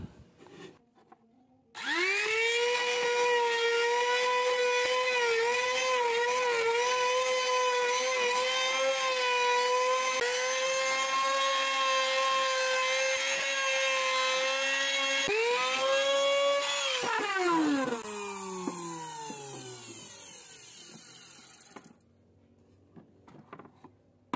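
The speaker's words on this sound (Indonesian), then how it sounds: "untuk langkah pertama kita cowok bagian dalam ini ya, memakai louter" A loud, steady high-pitched motor whine of an electric router hollowing out scrap wood, holding for about fifteen seconds, then winding down in pitch as it stops.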